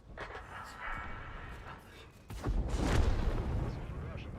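Artillery shell fire in the World of Tanks video game, a sharp blast at about mid-clip followed by a loud rumbling wash of battle noise, with game effects and some voice underneath.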